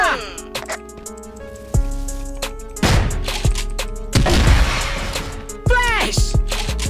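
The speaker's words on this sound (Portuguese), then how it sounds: "Granada!" Grenade explosions in a first-person shooter match, heavy booms and crashes bursting over steady game music and effects, with a voice shouting between blasts.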